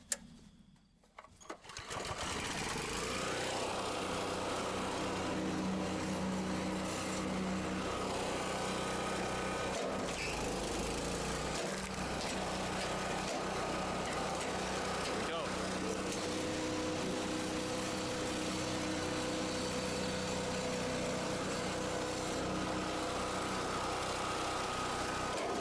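A DR RapidFire Kinetic log splitter runs steadily on a heavy hardwood log, giving a loud, continuous mechanical whir and hum up close that starts abruptly and holds for about twenty-five seconds with little variation.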